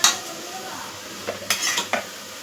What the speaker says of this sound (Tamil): நல்லா வெங்காயம் வதங்கி வந்துருக்கு.